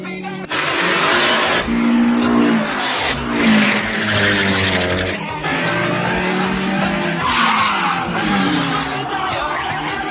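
Anime street race between a Toyota AE86 and a Mitsubishi Lancer Evolution IV (CN9A): loud, continuous engine roar with rising and falling revs and squealing tires as the cars skid through corners.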